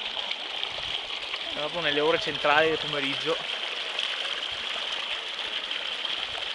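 Glacial meltwater rushes from the front of the Marmolada glacier as a steady, dense hiss of flowing water, with someone speaking briefly over it partway through.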